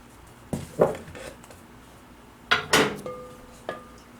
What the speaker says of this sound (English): And I'm going to mix this well with a wooden spoon.